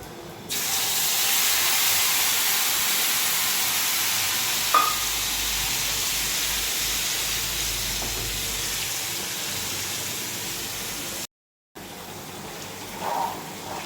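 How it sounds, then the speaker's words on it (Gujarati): Cumin seeds and asafoetida hit hot oil for a garlic chutney tempering, making a loud, steady broadband sizzle that hisses on almost without a break, drops out briefly near the end, then resumes more softly. "તો તેલ સરસ મજાનું ગરમ થઈ ગયું છે ને તો એમાં આપણે જીરું અને હિંગ નાખી દઈએ"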